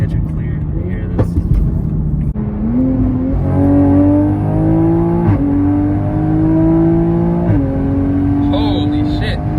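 A 500hp Mk5 Toyota Supra accelerating hard on a street, the engine note rising through several gear changes with brief dips between shifts, loud and heard from inside the cabin with road roar underneath.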